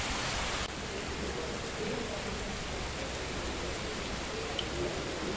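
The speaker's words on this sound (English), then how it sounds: "This is a nice place despite the rain." Steady rain falls in a docking area of the space game Spacebourne, an even, continuous hiss with no pauses.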